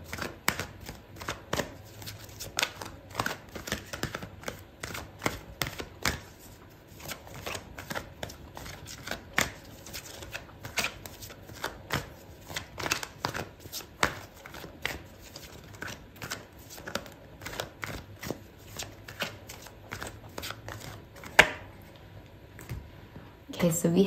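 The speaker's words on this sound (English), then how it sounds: "I'm going to pull out another card for you" Tarot cards shuffled and handled during a love tarot reading, giving a steady run of crisp riffling clicks and soft slaps throughout, close and moderately loud, with a voice at times.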